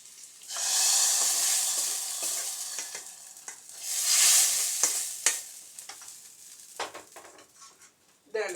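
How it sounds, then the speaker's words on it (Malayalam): Hot oil tempering with curry leaves is poured into a pot of sambar, giving two loud swelling bursts of sizzling hiss that fade into lighter crackling and spoon clinks nearby, with no talk. "ഇന്നത്തെ വറവ് നമുക്ക് ഇതിനകത്തേക്ക് സാമ്പാറിൻ്റെ അകത്തേക്ക് ഒഴിച്ചു കൊടുക്കാം."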